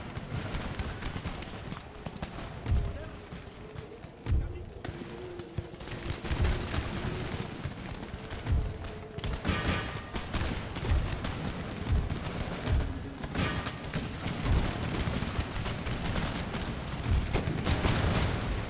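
Dense, continuous musket volleys and scattered booms from infantry firing on front and flank in an Empire: Total War battle, a sustained roar of overlapping shots with irregular louder cracks throughout, no voices.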